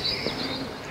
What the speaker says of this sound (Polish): Ten gruchot gołębi.